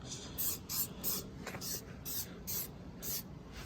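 Headlight restoration product sprayed onto a dirty, foggy headlight in repeated short hissing bursts, about seven pumps in quick rhythm, close and fairly quiet over a low background rumble.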